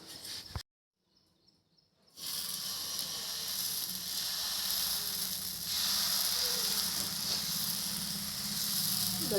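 Pesarattu, a moong dal dosa, roasting on a hot pan, a soft continuous sizzle and hiss that starts after a brief click and near-silence and holds steady throughout.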